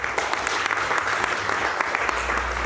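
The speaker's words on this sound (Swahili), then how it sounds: "Tupatie familia ya Noah makofi mazuri." A church congregation claps steadily and densely for Noah's family during a sermon, continuous applause from a crowd heard close by for the whole stretch.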